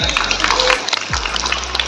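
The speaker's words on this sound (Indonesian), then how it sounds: "tepuk tangan dong buat teman-teman semua ya" Applause from students in a university finance lecture, dense close clapping filling the room with a voice over it.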